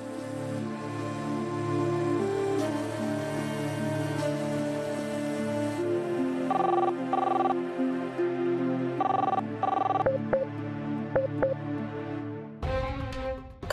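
A phone call rings out unanswered, a steady, repeating electronic ringtone with layered tones pulsing over several cycles before cutting off abruptly near the end.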